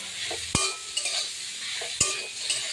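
A spoon stirs pointed gourd and soya chunk curry in a pan over a steady sizzle, with two sharp scrapes against the metal and a few softer clinks, close and alone without voices.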